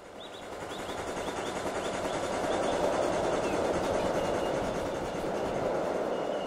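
A steam train in the Derail Valley simulator game rumbles past, its roar swelling to a peak midway and easing off again as it goes by, loud and continuous with no voices.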